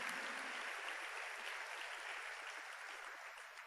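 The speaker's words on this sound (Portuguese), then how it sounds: "Eu quero que você aplaude esse Deus maravilhoso." Church congregation applauding in praise, a dense wash of clapping that stays steady and fairly distant, easing slightly toward the end with no voices on top.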